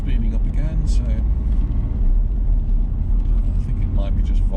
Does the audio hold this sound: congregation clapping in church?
no